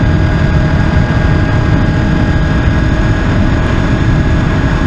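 Motorcycle engine held at steady open throttle while leaning into a corner, a loud continuous drone with constant pitch and no letup throughout.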